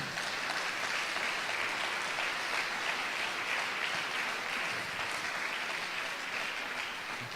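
A church congregation applauding for the Lord, a sustained, even roar of many hands clapping, dense and continuous throughout without noticeable talk.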